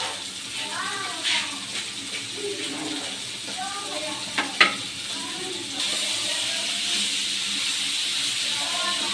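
Bitter gourd and shrimp being stir-fried together in a pan, a steady sizzle with scraping and tossing of a spatula, a few sharper clinks near the middle, and the frying growing slightly louder toward the end.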